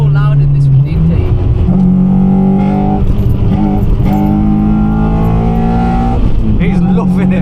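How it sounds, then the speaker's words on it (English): Honda Civic Type R EP3 engine revving inside the cabin with a loud intake and a holed exhaust, the drone rising and dropping in steps as VTEC engages, with people talking over it throughout. "You hear that little like jump? That's the VTEC."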